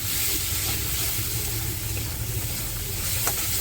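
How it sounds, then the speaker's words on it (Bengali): Spice paste with turmeric powder fries and gets stirred in a pan for a fish dish, giving a steady, close sizzle and hiss with faint scraping throughout, and no talk. "দিয়ে দিচ্ছি হলুদ গুঁড়ো দিয়ে ভালো করে মশলাটাকে আরেকটু কষিয়ে নেব এরকম নাড়াচাড়া দিয়ে"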